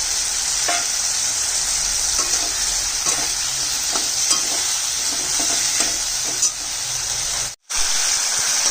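Katwa drumstick stems are stir-fried in a hot pan for a fish curry, making a continuous loud sizzle and hiss with scattered stirring clicks, a short break near the end, then the frying resumes.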